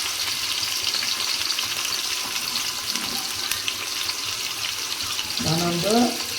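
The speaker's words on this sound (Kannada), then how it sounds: "ಈಗ ನಾನು ಇದರಲ್ಲೇ ಈ ಉಳ್ಳಾಗಡ್ಡೆ ಹಾಕ್ತೀನಿ" Chopped onion going into a hot pan while cooking tomato bath, a steady broadband sizzle of frying throughout, with a brief clatter near the end, close and fairly loud, no talk.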